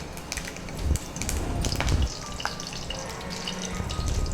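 Curry leaves hit hot oil in a pan while cooking girmit, setting off a busy crackling sizzle with sharp pops and spits throughout, close and fairly loud.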